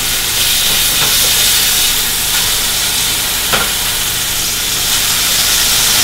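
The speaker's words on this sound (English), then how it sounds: "when you're cooking the sausage to make sure you don't burn the bottom of the pan, because we're going to do something special with some of this fat that is rendering off" Sausage sizzles as it cooks in a frying pan for a breakfast quesadilla, rendering fat with a steady, close, continuous hiss and crackle and no speech.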